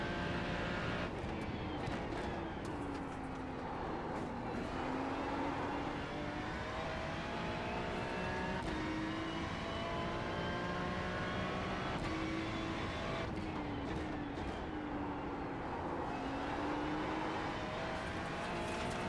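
Ferrari GT3 race car engine in a racing video game at Mount Panorama, howling steadily through the gears with repeated shift drops and rising revs, loud and continuous with no talk.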